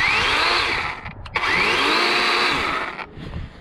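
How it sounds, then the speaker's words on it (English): A DeWalt 20-volt cordless chainsaw fitted with a 14-inch bar whines loudly and steadily, dipping briefly twice as the motor revs down and back up. "it's a Dewalt 20 volt chainsaw"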